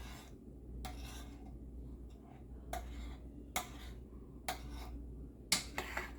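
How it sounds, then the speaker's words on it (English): A spoon scrapes and clinks against a pot while stirring thick peach plum butter as it cooks, in quiet, intermittent strokes over a faint background hum. "I'm just going to stir it up a little bit."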